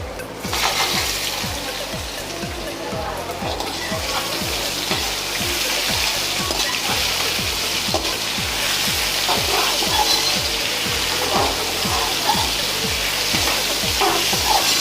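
Potatoes with kasuri methi fry over high heat in a pan, a constant hiss with rapid, regular scraping of the stirring utensil close by throughout.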